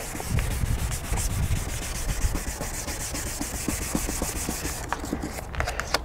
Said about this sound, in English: holding the paper flat, you wanna sand back and forth, not in circles